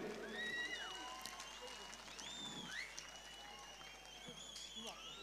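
Audience applause mixed with shrill whistles and crowd noise at an outdoor festival stage event, sustained and fairly loud throughout.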